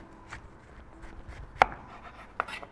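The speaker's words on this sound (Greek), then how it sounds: "Θα χρειαστώ μια μεγάλη σελινόριζα. Θα κόψω πρώτα το κάτω σημείο." A knife cutting into a large celeriac on a board, with soft scraping and one sharp chop followed by a second lighter one, close and alone.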